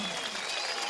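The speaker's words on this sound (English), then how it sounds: "When you hear the round of applause that Carlos Gabriel OZAN is receiving" Brief, steady wash of crowd applause at an amateur boxing event as a 75 kg fighter from Mendoza, Argentina is introduced, a dense, even roar of clapping.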